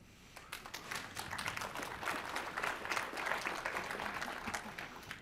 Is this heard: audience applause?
yes